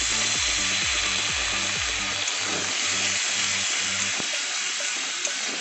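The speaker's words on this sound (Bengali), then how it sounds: "কড়াইশুঁটিটা মশলাটার মধ্যে একটু ভেজে নেবো।" Green peas frying in a masala in a kadai, a steady close hiss and sizzle that runs throughout, with some stirring scrapes over the first few seconds and no talking.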